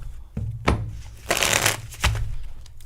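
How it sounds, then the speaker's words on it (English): Playing cards are shuffled up close in a few distinct bursts: sharp snaps, a fast riffling rush, then a final flutter, with no talking during them. "I just had one of those shuffling moments."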